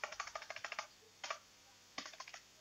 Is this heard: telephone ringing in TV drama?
no